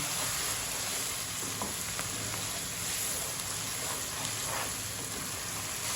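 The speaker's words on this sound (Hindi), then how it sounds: "इनको अच्छी तरह से हम मसालों को भूनेंगे लो फ्लेम पे" Turmeric and coriander powder roasting on a low flame for a cauliflower and chicken curry, a steady dense sizzle close by with faint stirring taps throughout.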